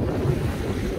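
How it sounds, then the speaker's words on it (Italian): Strong, cold wind at the sea during a fishing trip, a loud continuous roar buffeting the microphone with surf-like rumble underneath and no voices. "si è messo vento sostenuto"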